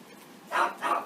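A dog barks twice in two short, fairly loud bursts close by, on a rainy day, with quiet room noise between the barks.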